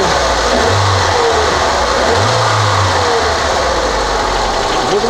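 A car engine, just refitted with a new hydraulic chain tensioner, runs loud and close, rising through two distinct revs with steady idling between them.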